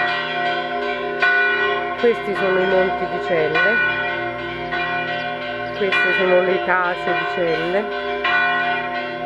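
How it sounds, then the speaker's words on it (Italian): Church bell in the village of Celle, ringing repeatedly with resonant, overlapping tolls that sustain throughout, near and fairly loud, while a person speaks over it. "Questa è la campana che suona così a lungo, due volte al giorno."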